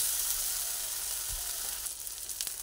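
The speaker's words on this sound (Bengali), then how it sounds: "তেলের মধ্যে অল্প নাড়িয়ে নিয়ে তারপরে এর মধ্যে আমি আমগুলোকে ঢেলে দেবো" Mango pieces frying in hot oil for a Bengali mango and pointed gourd dish give a dense, continuous hissing sizzle, loud and close, with a soft thump partway through and faint crackles toward the end, without any talking.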